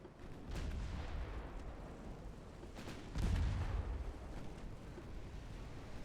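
Battleship 12-inch guns fire in a 1905-era naval war game, giving deep booming blasts with rumbling low-end tails. Two heavier shots stand out over a continuous churning roar of battle, and no voices are present.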